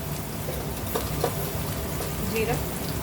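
Cumin seeds and spices such as chaat masala and garam masala frying in a pan, a dense continuous sizzle with a couple of brief scraping touches; no voices.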